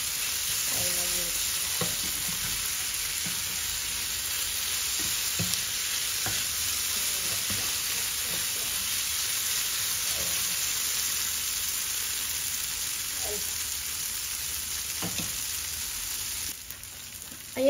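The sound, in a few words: bitter gourd being stirred and sautéed in a pan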